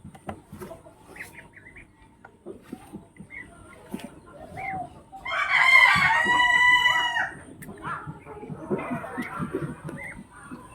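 Chickens cluck and mutter close by while being fed syrup medicine, and a rooster lets out one loud crow partway through, followed by more clucking.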